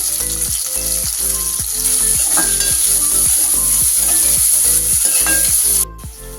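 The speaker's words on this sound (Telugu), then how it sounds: "చూడండి, ఆనియన్ వేసుకుంటున్నాను. అలాగే చిన్నగా తరుక్కున్న పచ్చిమిర్చి కూడా వేసాను." Onion and finely chopped green chillies fry in a pan, a steady close sizzle with a regular, rapid scraping rhythm of stirring throughout, cutting off sharply near the end.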